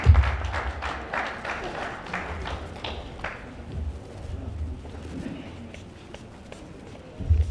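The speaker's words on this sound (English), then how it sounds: "A big round of applause, please." Audience applause fills a council chamber during a mayor's State of the Municipality address, with dense clapping loudest at the start that then settles into a steady, softer patter for several seconds.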